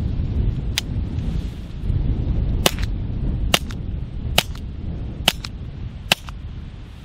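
Suppressed .22 rimfire shots fired through a Gemtech GM-22 monocore silencer with Federal suppressor ammunition: about nine sharp, dry cracks at irregular intervals, some in quick pairs, over outdoor wind rumble.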